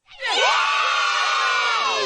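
A cartoon crowd of Springfield townspeople in The Simpsons erupts in loud, sustained cheering and shouting, a dense wall of excited voices rising quickly and holding steady for about two seconds.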